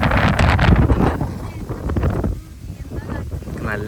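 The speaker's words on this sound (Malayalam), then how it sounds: "നല്ല കാറ്റുണ്ടാവും, കണ്ണടിച്ചുകൊണ്ടിരിക്കും." Strong wind buffets the microphone outdoors in loud, gusty roars that ease off and return, with a voice speaking faintly underneath.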